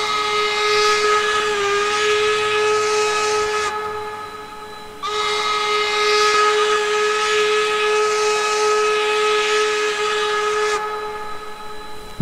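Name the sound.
steam whistle of K&L N&W 4-8-0 locomotive, Trainz 2019 video game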